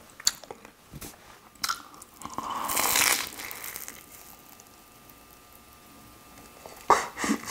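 A crispy cheese-filled corn dog is bitten with a loud close crunch, followed by soft chewing and a few more crisp bites at the end, with no talking.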